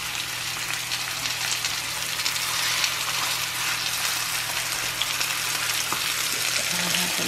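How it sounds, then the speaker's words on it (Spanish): Chicken breasts sear in hot oil in a pan, giving a loud, steady sizzle and crackle close by that runs without a break and has no talk over it. "ya nuestro aceite ya está caliente. Vamos a agregar nuestras pechugas."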